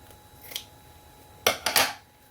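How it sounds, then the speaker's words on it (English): Scissors snip thread ends on sewn tulle: one light snip, then a brief pause and a quick cluster of three sharp cuts, close and crisp in a quiet room. "Let's go ahead and cut the ends now."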